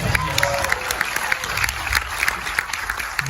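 A crowd applauds at a film premiere for a horror film, dense sustained clapping close by, with scattered voices and a cheer mixed in.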